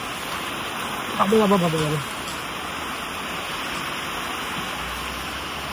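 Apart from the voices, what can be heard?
rain falling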